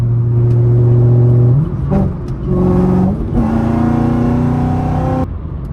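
A supercharged Chevrolet Camaro accelerating hard from inside the car, the engine climbing in pitch through a gear, dropping briefly on each shift, then winding up again before cutting off.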